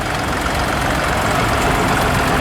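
A historic three-cylinder agricultural tractor engine runs steadily during an arena parade at an autumn show, a loud, continuous, gruff rumble with a knocking edge and no clear talking.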